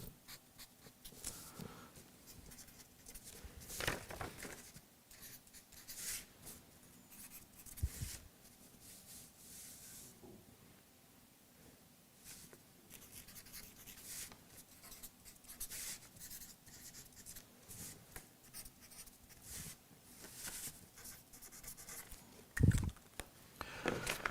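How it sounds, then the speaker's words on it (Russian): A pen scratches and rubs on paper in quiet, uneven strokes close by, with brief pauses between them and a few soft knocks and handling noises. The writing is faint and no one speaks. "сейчас я для себя напишу"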